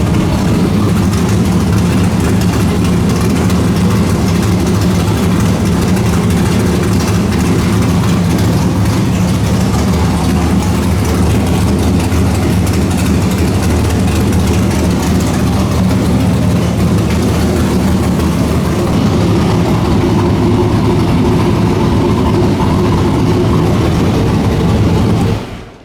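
Carbureted car engine idling with a stumble, a loud, continuous low rumble close by with uneven roughness, running steadily for the whole stretch before cutting off abruptly at the end.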